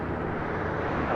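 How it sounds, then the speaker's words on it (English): Steady, broadband jet roar from an American Airlines Boeing 787-8 Dreamliner taxiing for departure at LAX, a continuous rumble and whoosh with no breaks, moderately loud and unchanging over the short stretch. "looks like that Dreamliner making a U-turn will have a Southside departure"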